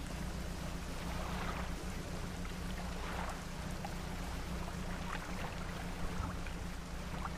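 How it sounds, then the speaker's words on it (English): Steady ocean waves wash and surge in the video game Dredge, a continuous broadband roar with low rumbling swells and no voices over it. "Just enjoy the sounds of these waves."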